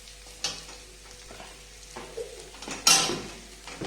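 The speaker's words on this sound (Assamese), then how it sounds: "অকণমান লৰাই দিছোঁ এনেকৈ, মই লৰাই দিছোঁ।" Pulao rice being stirred and fried in a pan, soft sizzling with scattered spoon scrapes and clinks against the pan, one sharper stir near the end.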